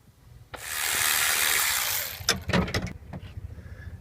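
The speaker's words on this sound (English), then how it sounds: "Now we'll undo two of the clamps, one each side down here on the intake" Clamps being loosened on the intake of a Ford 7.3 Powerstroke diesel engine: a sustained whirring power-tool run of about a second and a half, followed by a burst of sharp metallic clicks and rattles up close.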